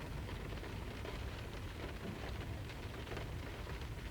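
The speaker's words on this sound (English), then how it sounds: "it is raining." Steady, dense rain pours down in an unbroken hiss with a low, rumbling undertone of distant thunder, constant throughout and free of talk.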